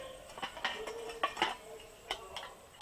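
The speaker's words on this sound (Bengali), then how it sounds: "আমি টিফিনটা খুলে দেখবো যে ডিমটা সিদ্ধ হয়েছে নাকি" A tiffin box with eggs boiling inside is opened, giving a handful of quiet clinks and light metallic taps spread unevenly at close range.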